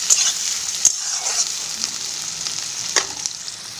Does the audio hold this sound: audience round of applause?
no